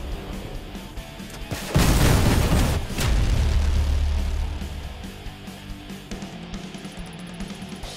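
Cricket 1M unguided rockets from the Crossout video game detonate in a loud, heavy burst of overlapping explosions with a deep rumbling tail, then fade into quieter game noise.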